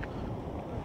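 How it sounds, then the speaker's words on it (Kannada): Strong, steady wind roars across a high mountain pass at about 13,479 feet, a continuous broadband rush with low buffeting rumble against the microphone and no voices. "ಇಲ್ಲಂತೂ ಗಾಳಿ ಹೆವಿ ಹೊಡಿತಾ ಐತೆ ಸಖತ್ ಗಾಳಿ ಐತೆ"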